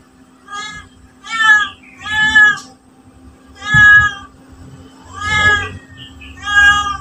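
A cat meows repeatedly, five or six clear, loud, drawn-out cries spaced a second or so apart, close by and otherwise alone over a faint steady hum.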